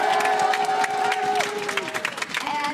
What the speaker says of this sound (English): Cheer for Fnatic win?